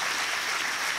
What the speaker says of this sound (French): Jean-François Kahn, on peut l'applaudir.